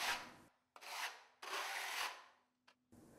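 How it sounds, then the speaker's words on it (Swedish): Sandpaper works over filled spackle patches on an interior wall in a series of rough back-and-forth strokes, with brief pauses between passes and a faint steady hum underneath. "Slipa de spacklade ytorna."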